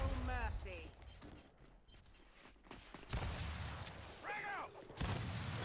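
Grenade explosions and gunfire in a ranked Gears 5 multiplayer match, loud bursts punctuating the action around three and five seconds, with a player talking intermittently over the combat.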